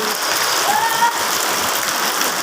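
Steady rain falling outdoors, not yet heavy, a continuous hiss of drops on surfaces at moderate loudness with no talking.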